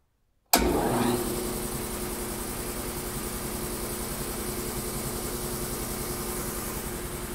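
A faulty air compressor in a workshop kicks on abruptly after a moment of silence and keeps running at a steady, loud, droning hum as it builds pressure, alone with no talking.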